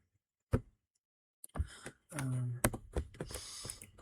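Computer keyboard typing while entering data into Excel: irregular bursts of close key clacks and taps, with a separate isolated click first, then denser keystrokes after a short pause.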